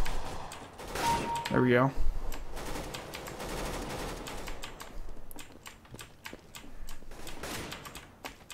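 Single-tap rifle shots ring out in Counter-Strike: Global Offensive as sharp separate cracks, along with clicks and clatter, and someone speaks briefly over them.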